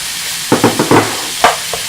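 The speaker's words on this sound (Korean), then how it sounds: "양배추랑 양파가 약간 투명한 빛을 보일 때까지 볶아주시면 되겠습니다" Pork belly, mixed seafood, cabbage and onion stir-fry in a hot pan, with a loud sizzle under several sharp clattering strokes of a utensil in quick bursts.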